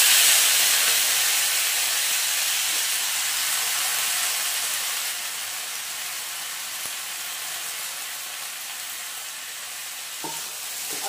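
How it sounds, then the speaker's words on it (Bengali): Vegetables fry in a pan with ginger and panch phoron, a steady close sizzle and hiss throughout with a faint clink of stirring near the end. "তো এইবার আমি এই যে সবজিগুলো দিয়ে দিই।"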